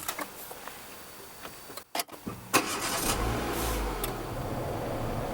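A Renault Megane Coupé starts from a keyless push button: a brief silence, a click, then the engine catches and settles into a steady, close idle rumble that continues to the end.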